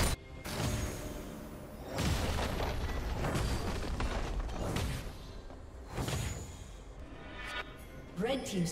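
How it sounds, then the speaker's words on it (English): A turret being destroyed in League of Legends, with booming explosions and whooshes recurring every couple of seconds amid game effects and announcer speech. "Blue team's turret has been destroyed."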